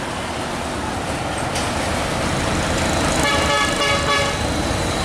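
A big Hino Tronton truck roars past on a road, its engine rumbling loud and close as a multi-tone horn honks over it in the second half.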